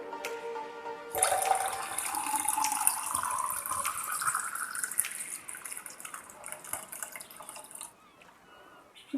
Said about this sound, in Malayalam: ഇനി ഇത് നമുക്ക് ഈ കപ്പിലേക്ക് ഒഴിച്ചു കൊടുക്കാം.